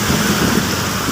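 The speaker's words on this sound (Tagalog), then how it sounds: "tumuod po ang lakas ng ulan dito" Heavy rain pours down steadily in San Dionisio, a dense continuous roar close by with no voices, the downpour sounding full and unbroken throughout.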